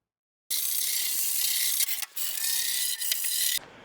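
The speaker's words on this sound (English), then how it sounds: "I think that's it for this wire brush here" A wire brush scrubs hard over the metal of a 1974 Plymouth Duster engine bay, a loud, continuous raspy scraping with two brief pauses, then stopping abruptly.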